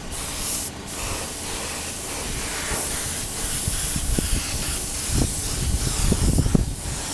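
White paint hisses from a spray gun onto prepped motorcycle fairing parts for Kawasaki, Suzuki, Bimota and Honda NS250 bikes outdoors, a steady airy spray with a brief pause and rising wind rumble underneath, no talk.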